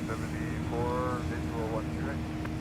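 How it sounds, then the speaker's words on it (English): Airbus A321neo jets with geared turbofan engines give off an eerie, whale-like warbling tone at an airport, rising and bending over a steady engine rumble, with a voice talking faintly. "Some of the 321 Neos that also have the geared turbofan engines, they will produce a little bit of a whale sound."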